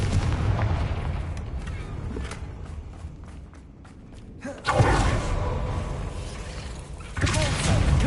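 Confringo blasting-spell explosions in the Hogwarts Legacy video game, loud booming blasts with crackling debris, one heavy impact midway and another near the end over continuous game-combat noise.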